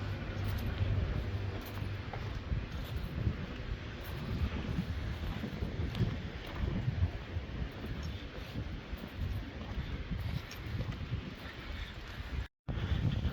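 Strong, steady wind in Gibraltar buffeting the microphone outdoors, a continuous rumbling roar with gusty texture and a brief dropout near the end.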